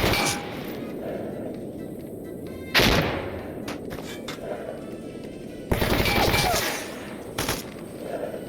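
Gunfire in the video game Stalker Anthology comes as two bursts of loud, rapid automatic fire, with scattered single shots and impacts between them over a low, constant background rumble.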